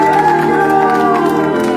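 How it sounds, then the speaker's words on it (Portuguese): Outdoor street crowd at a birthday surprise in central São Paulo applauding and cheering loudly, a dense wash of clapping and shouts including children's voices, close and continuous. "Pode bater palmas que ela merece."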